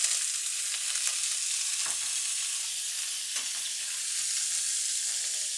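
Prawns sizzling in very hot oil in a frying pan, a loud, continuous hiss with a couple of faint scrapes, no voices.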